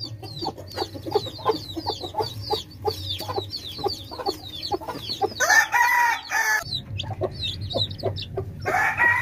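A hen clucks repeatedly in a busy rhythmic series, close by, with a brief louder squawking burst midway and a low steady hum underneath.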